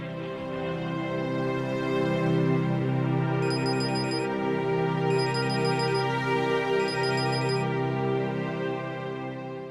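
A phone rings with a repeating electronic ringtone melody, steady and moderately loud for nearly ten seconds, with brief bright chime accents recurring at regular intervals, heard alone without talking.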